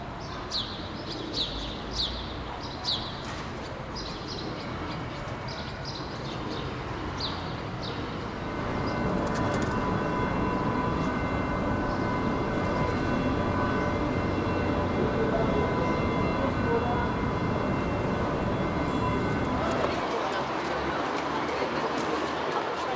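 Suburban residential ambience: birds chirp and coo close by at first, then a steady rumble like a passing train joins and fills the scene. Distant birdsong carries on beneath it until the noise thins near the end.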